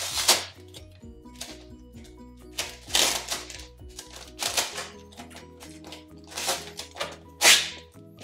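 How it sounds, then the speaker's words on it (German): Stuck-together furniture vinyl film being pulled apart by hand, giving close, irregular sharp snapping and crackling bursts with quieter peeling between them and a faint steady hum underneath. "Jetzt probiere ich mal die Folie auseinanderzuziehen."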